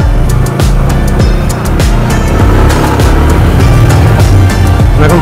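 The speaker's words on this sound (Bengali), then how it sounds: "চলেন বাইকে করে আমরা উপরে যাই।" A motorbike climbing a steep hill at Barikka Tila gives a loud, steady engine drone with a rising, straining tone and continuous road and wind rumble throughout.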